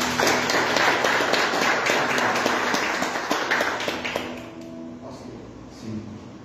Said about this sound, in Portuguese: Adora Ele com as palmas.